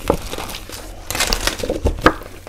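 Patterned Christmas wrapping paper crinkles and crumples in short, close bursts as it is handled and unwrapped, with soft rustling between the louder crackles.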